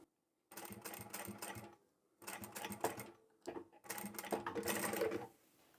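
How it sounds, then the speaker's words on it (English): A sewing machine runs in three short close bursts of rapid stitching, separated by brief pauses, as it sews the end of a fabric crossbody bag. "And then sew up the end."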